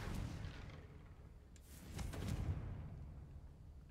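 A deep muffled explosive blast from a Harry Potter video game, with a low rumbling boom swelling around the midpoint and trailing off, set against continuous low background rumble.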